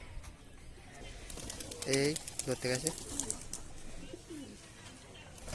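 Faint cooing of a Kalshira Teddy-line Giribaj pigeon on a rooftop, with a brief flutter of wings, sits beneath a person speaking nearby.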